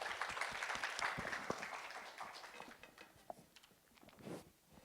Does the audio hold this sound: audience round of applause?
yes